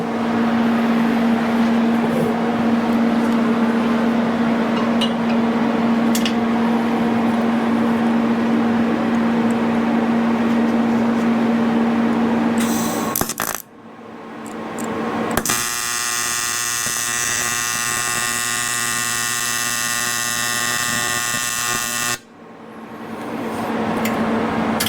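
AC TIG welding on a Yamaha MA190 cylinder head, set at 100 Hz with a 70/30 balance. A steady hum gives way after a brief gap to a harsh, crackling arc buzz lasting several seconds that stops abruptly.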